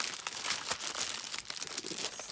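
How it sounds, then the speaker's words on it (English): A plastic baggie holding a Halloween embellishment packet crinkles and rustles continuously at close range, with dense, scratchy crackles and no talk. "Sorry for the baggie noise."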